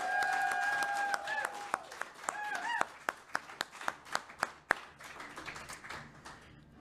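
Scattered clapping at a NASDAQ closing bell event, a string of sharp individual claps that grow sparse and fade, heard alongside a tonal beeping sound early on.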